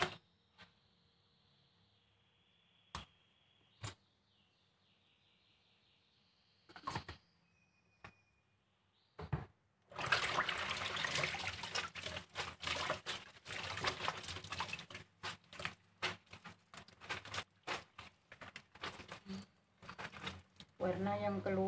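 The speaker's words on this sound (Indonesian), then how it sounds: "nah ini akan saya cuci sekarang" Water splashing and sloshing as a tie-dyed shirt is rinsed and wrung in a basin, a steady wet churn following a few earlier isolated knocks and a brief voice.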